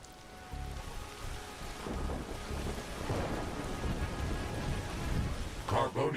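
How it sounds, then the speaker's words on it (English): Rumbling thunder and steady rain fill a thunderstorm in the video game RiftBreaker, a continuous low roar swelling in intensity, with a few sharper clatters near the end. "I can hear distant thunder."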